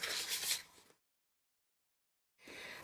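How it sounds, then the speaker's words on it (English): Score lines on paper are burnished by hand with a tool, a close, soft rubbing scrape lasting about a second, followed by silence and then another brief stretch of rubbing. "Then burnish all my score lines."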